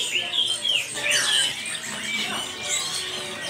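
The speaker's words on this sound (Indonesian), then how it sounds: "Ombyokan perkutut Bangkok" Imported Bangkok zebra doves in a bird market chirp and squawk in quick, bright calls that overlap one another, close and moderately loud against market background noise.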